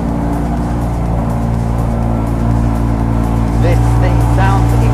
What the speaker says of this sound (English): And then hit that engine start button.